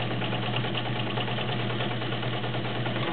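Vintage all-metal Kenmore Heavy Duty 1207 sewing machine running steadily, a smooth continuous motor hum and whir with even stitching rhythm, close and alone throughout.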